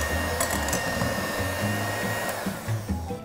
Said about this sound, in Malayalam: ജസ്റ്റ് സ്ലോ സ്പീഡിൽ ഒന്ന് മിക്സ് ചെയ്ത് കൊടുക്കാം